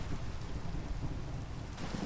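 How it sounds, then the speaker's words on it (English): Rain falling in the video game No_Moon, a dense steady hiss of downpour with low rumbling underneath, continuous and fairly close throughout. "Oh, it's raining, great."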